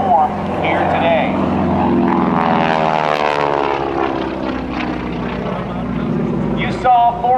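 A propeller airplane flies an 8-point hesitation roll at a military open house air show, its engine droning loud and steady throughout with a shifting pitch, while a voice talks over it.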